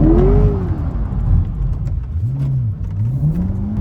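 A Chevrolet Corvette C8 engine revs loudly from inside the cabin, its pitch sweeping up and down in several rising and falling surges.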